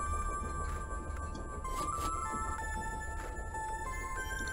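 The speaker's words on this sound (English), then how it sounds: "The ringing seems to be coming from here." A telephone rings inside the horror adventure game The Charnel House Trilogy, a steady electronic ringing tone held throughout over a low ambient game drone, with no talking.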